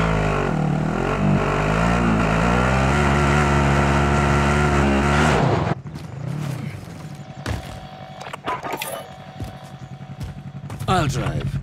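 Vehicle engine while driving in Call of Duty Warzone, a loud droning engine with shifting harmonic tones that cuts off abruptly midway, followed by quieter rumbling, clanks and game sounds.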